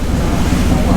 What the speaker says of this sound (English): They actually have some pretty decent waves in here.